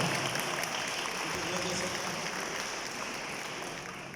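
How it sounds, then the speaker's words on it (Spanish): A gathering of teachers at a diocesan church event welcomes a priest with applause, heard as a distant, steady wash of many clapping hands, faint and even throughout. "Lo recibimos con un fuerte aplauso, padre"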